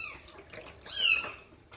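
Water from a tap running and splashing while sphynx and bambino kittens are rinsed in a bath, a steady close wash of flowing water with a brief high squeak in the middle.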